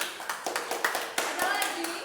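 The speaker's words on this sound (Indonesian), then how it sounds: "Oke, tepuk tangan dulu untuk Kak Kaliani." Students in a classroom clap their hands in a quick, uneven patter of separate claps, close and fairly loud, with children's voices in the background.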